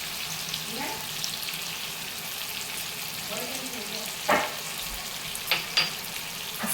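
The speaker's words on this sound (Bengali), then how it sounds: "সব সসগুলো দিয়ে কিছুক্ষণ নাড়াচাড়া করব" Mushroom chilli stirred in a pan with tomato and chili sauces gives a steady close sizzle, broken by a few sharp scraping clicks of the spoon against the pan.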